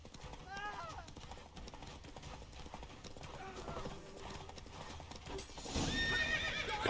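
A horse in the video game Witcher 3 gallops with rhythmic clip-clop hoofbeats, with a whinny early on, while game sounds and voices run underneath and the sound grows louder toward the end.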